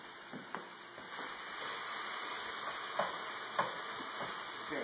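Hamburger meat for cowboy chili sizzles and pops in a pot, with a few scraping stirs of a utensil against the metal; close and fairly quiet, with no talking.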